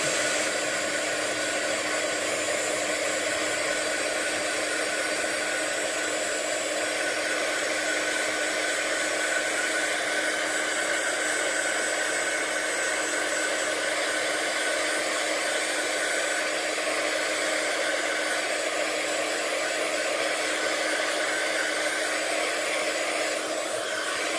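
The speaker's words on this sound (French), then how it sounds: "Maintenant, je mets le heat gun en route." A heat gun blows hot air in a continuous, steady whine and rush that holds at the same level throughout, close by with no talking.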